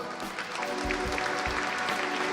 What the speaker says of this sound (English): You can get applause